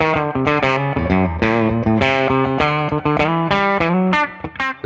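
Electric guitar played through a Kirk Fletcher RC Booster pedal: a run of bright, driven notes and chords with a shimmering, slightly distorted edge, close and loud.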